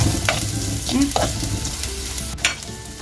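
Onions and chilli sautéing in a pan for a Malabar fish curry with green mango, giving a steady close sizzle with scraping stirs and a few spoon knocks, no voice.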